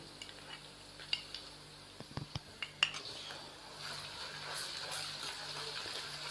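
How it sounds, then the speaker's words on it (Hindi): Ginger garlic paste being stirred into light-brown fried onions in a pan, with sharp metal spoon clinks and scrapes against the pot over a faint sizzle, close and fairly quiet, with no talking. "अदरक और लहसुन के पेस्ट को शामिल करने के बाद हमने इसको अच्छे से मिक्स किया"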